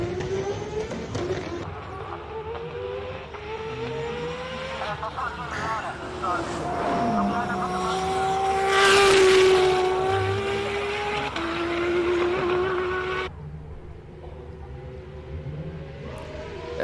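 Race car engine at the Simola Hillclimb, a tone that climbs and falls as the car passes, loudest near the middle, with commentators talking over it throughout.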